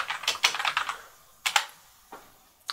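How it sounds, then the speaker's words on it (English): Keys clatter on a computer keyboard as a command is typed on a Lenovo ThinkCentre desktop, a close burst of quick clicks, a short pause, then a few isolated keystrokes. "at this screen, you have to hold down shift and press F10, and you type in disk part"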